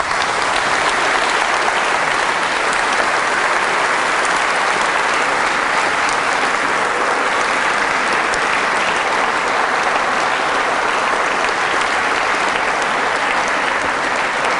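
A seminar audience in Southampton gives sustained, even applause after a talk on evidence for the resurrection, a dense, unbroken roar of many hands clapping that fills the room for the whole stretch.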